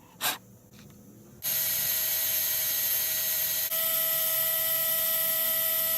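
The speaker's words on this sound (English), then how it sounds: "Seems to be drilling out now." Drill Force bits grind into a broken bolt on a turbo exhaust manifold: after a short click and quiet, a steady continuous whine of drilling sets in and runs on without pause.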